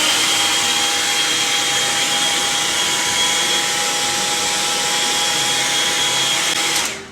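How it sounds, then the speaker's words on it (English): A steady, loud whooshing roar of a blow dryer smoothing a half wig runs continuously with a faint whine, cutting off abruptly near the end. "we're gonna use the blow dryer"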